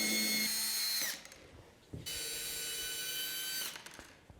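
A cordless battery-powered screwdriver drives screws while a heater is installed in a shipping container tiny house. Two loud, close whirring runs are split by a short pause with a clunk.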